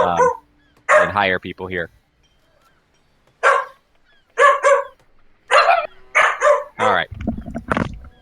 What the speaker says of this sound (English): My little dog sitting beside me heard your dogs barking through the headset and started barking like crazy.